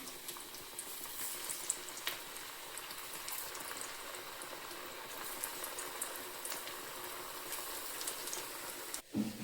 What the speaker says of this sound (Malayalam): ഓരോന്നായിട്ട് നമുക്ക് ഇട്ട് വറുത്തെടുക്കാം.